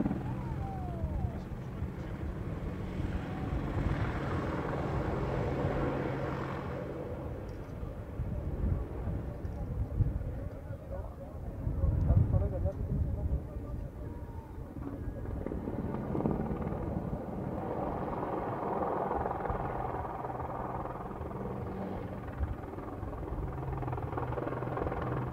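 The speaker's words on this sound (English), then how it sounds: "Time for the Hellenic army then, which was present at Tatoi with their Apache display team called Pegasus." A Hellenic Army AH-64 Apache attack helicopter of the Pegasus display team flies a display at Tatoi during an air show, its steady rotor and engine drone continuous and moderately loud, swelling around the middle with wind buffeting.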